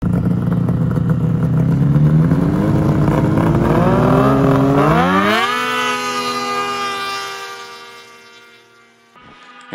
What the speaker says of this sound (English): Just stopped here for a little bit of drag racing